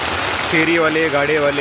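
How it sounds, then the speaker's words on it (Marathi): Heavy rain pouring over Mudkhed near Nanded, a dense continuous hiss across the whole clip while someone talks over it. "आज नांदेड आणि परिसरामध्ये विशेषतः मुदखेडमध्ये जोरदार पाऊस सुरू असून"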